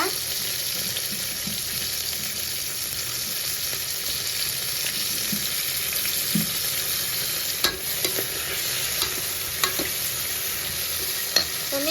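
Onion and tomato sauté in a pan for vegetable pulao with a steady, close sizzle, broken by occasional scrapes and taps of stirring and faint water sounds.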